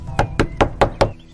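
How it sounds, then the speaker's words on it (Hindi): Five sharp, evenly spaced knocks on a door in a video game, loud and close, a quick hard rapping with no voices. "सुबह सुबह कौन दरवाजा फोड़ रहा है?"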